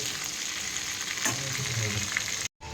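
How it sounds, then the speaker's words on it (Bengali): Eggplant, taro and yardlong beans frying together in a pan, a steady close hiss of hot oil with light stirring, cutting off abruptly near the end. "এবার বেগুন, গাঁঠি কচু আর বরবটি দিয়ে দিচ্ছি। এই সবজিগুলো ভালো করে ভেজে নেব।"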